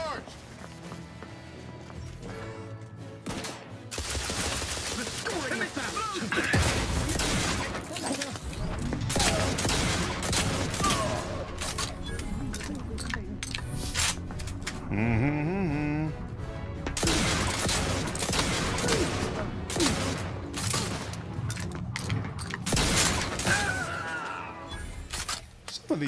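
Repeated shotgun blasts in the video game The Outer Worlds 2, loud and close, fired in irregular volleys amid dense combat noise, game music and a voice talking throughout.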